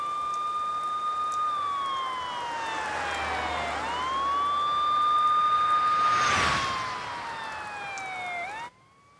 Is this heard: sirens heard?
yes